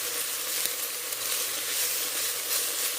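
Chopped onions sizzle and fry in a hot pan for Mexican-style pinto bean soup, a steady bright hiss with soft scrapes from stirring and a few faint clicks, no talking.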